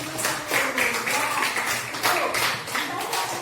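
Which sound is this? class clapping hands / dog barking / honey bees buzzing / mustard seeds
class clapping hands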